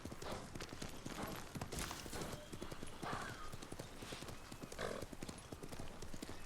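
Steady clip-clop of horse hooves at a brisk walking rhythm, with a brief whinny, over constant background noise, in the video game Ghost of Tsushima.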